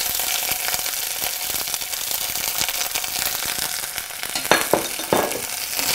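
Cashew pieces and green chilies frying in hot oil in a pan, a dense continuous sizzle close up, with a few clinks and stirring sounds near the end.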